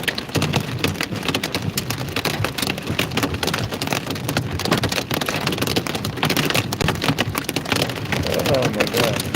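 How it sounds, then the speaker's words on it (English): Hail, at least quarter-size, drums steadily against a car windshield during a Central Texas storm chase, a loud dense patter that never lets up, with rain noise and voices talking inside the car. "I assume y'all can hear that hail hitting the windshield."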